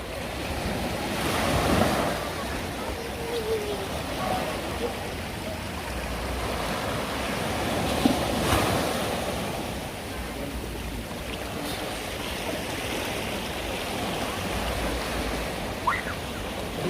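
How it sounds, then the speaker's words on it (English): Rough sea waves washing onto Ocho Rios fisherman's beach in St. Ann, Jamaica, a continuous roar of surf with wind buffeting the microphone and occasional louder surges. "Sea rough."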